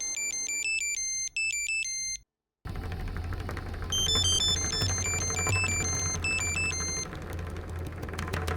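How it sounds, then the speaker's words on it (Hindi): An electronic phone ringtone plays a repeating bright melodic pattern at night in a Hindi family TV drama, breaking off briefly before resuming over a low steady hum. "इतनी रात को किसका फोन होगा?"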